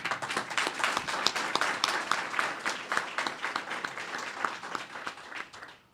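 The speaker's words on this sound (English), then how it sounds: "That deserves a round of applause." Audience members applaud at a public housing smoke-free announcement event, sharp individual claps clearly audible in a moderately sized crowd, steady throughout and fading at the end.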